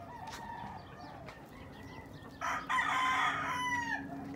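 A rooster crows loudly nearby after some softer clucking and background bird calls, the crow swelling in the second half.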